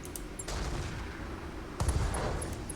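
Inferno weapon firing in Battletech with the Roguetech mod, two distant bursts of muffled shots about a second apart over a low rumbling game background, no voices.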